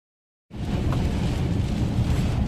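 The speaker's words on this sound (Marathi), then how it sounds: "जोरदार पाऊस, जोरदार पाऊस" Heavy monsoon rain at Ganpatipule in Ratnagiri bursts in after half a second of silence, a loud, dense, steady roar with a deep low rumble underneath that may be thunder.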